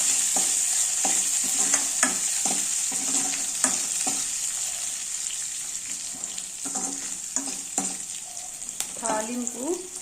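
Curry leaves, crushed black pepper and tempering spices sizzle steadily in a hot pan for a pepper rasam, with a bright continuous hiss and a few sharp crackles and pops.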